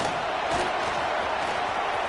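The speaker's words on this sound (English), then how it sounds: "This crowd bringing the energy and noise early" Steady, dense roar of a stadium crowd at a Notre Dame versus USC college football game in a video game, a continuous wash of cheering noise with no breaks across the short stretch.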